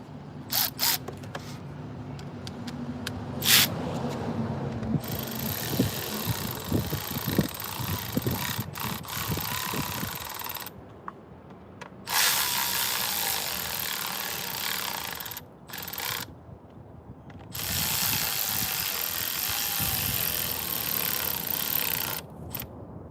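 An impact gun runs nuts down in three long, loud buzzing bursts, each cutting off sharply into short gaps of near silence, with earlier clicks and rattles of handling tools.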